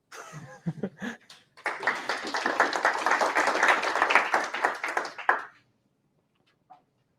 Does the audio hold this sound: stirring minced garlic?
no